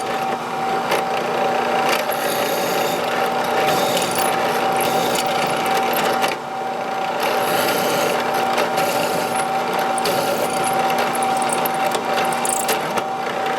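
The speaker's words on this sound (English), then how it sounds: "we're going to drill the bolt holes here" A drill bores bolt holes through a knife blank held flat in a vise, a steady close mechanical whine with a tonal hum that runs almost unbroken, briefly dipping once midway.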